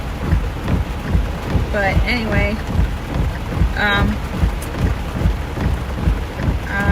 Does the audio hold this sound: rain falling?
yes